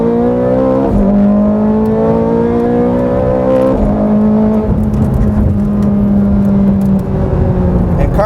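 A Ferrari 430 Scuderia engine pulls hard at full throttle in second gear, loud and close from inside the car. The pitch climbs in rising sweeps broken by brief dips as it shifts.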